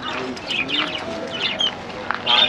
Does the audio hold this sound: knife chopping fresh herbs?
no